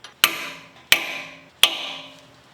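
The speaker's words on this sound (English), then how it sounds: "hit this with the hammer, and it will push this part here of the axle nut into the groove" Three sharp metallic hammer strikes on a punch, staking an axle nut into its groove, evenly spaced about two-thirds of a second apart, each ringing briefly before fading, close up.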